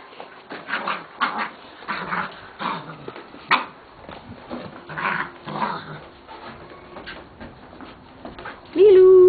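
Young puppies of a litter whimper, yip and growl in their puppy house, a busy run of short close cries and squeaks with a voice talking over them.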